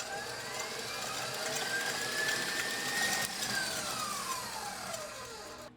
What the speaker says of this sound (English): now we're gonna beat our egg whites until they're light and fluffy for about 2 to 3 minutes